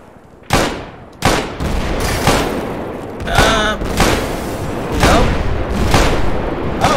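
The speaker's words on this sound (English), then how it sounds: "I just hear scattered gunfire, and we have a machine gun." Scattered gunfire and machine-gun bursts in a video game: several sharp, loud shots hit at uneven intervals over a steady rumbling battle din, with rapid bursts of fire in between.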